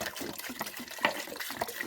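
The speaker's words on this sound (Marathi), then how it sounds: "पाणी किती टाकू तर?" Water is poured into a pressure cooker in a home kitchen, a soft, uneven splashing trickle heard close up and fairly quiet, with no speech.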